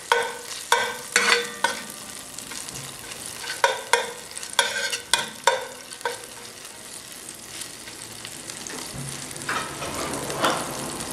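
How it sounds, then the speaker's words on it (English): Ginger frying in two tablespoons of butter over a high flame, with loud repeated stirring scrapes and clatters over a continuous crackling sizzle, close to the pan. "here I have 2 tablespoons of butter and I'm going to add 1 tablespoon of ginger."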